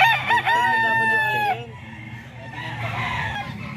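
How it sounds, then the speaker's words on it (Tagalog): Black Macrae gamecock rooster, an 18-month bull stag, crowing once loud and close, the call fading into quieter background noise. "Ito mga kaidol, gandang manok oh."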